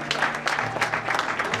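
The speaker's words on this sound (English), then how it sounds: "So please clap for Mothers Union." A church congregation claps for the Mothers Union during a Sunday service, a short burst of scattered applause with a low hum beneath it.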